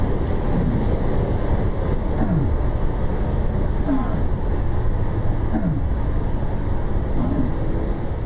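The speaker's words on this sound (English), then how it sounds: "I know it is windy and nasty out here" Windy outdoor weather in the Space Engineers video game: steady, loud rushing wind noise with a surf-like roar, constant throughout, while a voice talks faintly underneath.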